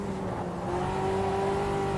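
A race car engine in Automobilista 2 holds a steady drone as its revs sag in a sim race, with the engine note and road rumble continuous and moderately loud, with no speech.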